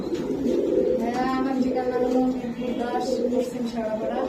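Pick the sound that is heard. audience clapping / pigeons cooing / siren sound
pigeons cooing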